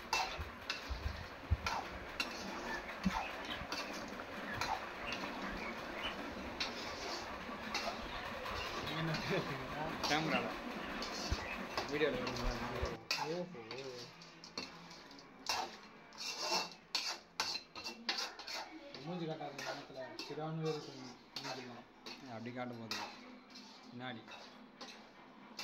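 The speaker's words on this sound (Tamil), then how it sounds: "பூண்டு போட்டு ஒரு லைட்டாக அப்படியே ஒரு கிண்டு கிண்டிக்கலாம்" Garlic being stirred in a pan for rabbit curry, with rhythmic rasping scrapes of a ladle against the metal, close and steady, then quieter intermittent scrapes while a person talks.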